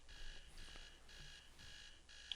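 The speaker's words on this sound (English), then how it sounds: "Walk right and interact with the alarm to turn it off." Alarm clock ringing in the video game Behind Closed Doors, a faint electronic buzz pulsing in regular bursts about every half second, repeating steadily.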